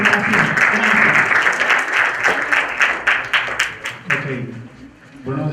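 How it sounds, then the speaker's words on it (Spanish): Warm applause from a conference audience at an international public accounting congress, many hands clapping at once, swelling then thinning into separate claps as it fades near the end, with some voices mixed in. "les damos un cordial aplauso"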